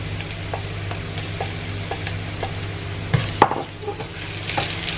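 Garlic and onions sautéing in a pan for chicken tinola give a steady, close sizzle, with a few scrapes and stirring clatters breaking through near the end.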